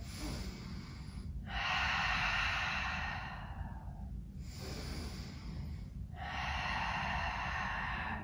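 Slow, deep breaths are taken during a yoga crescent lunge: a long airy inhale and exhale, then another, close and clear with short quiet pauses between.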